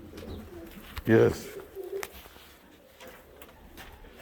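Pigeons at a pigeon loft on Saxon Farms coo softly and steadily nearby, with a person briefly speaking over them.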